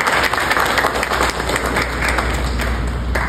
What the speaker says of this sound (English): Let us applause.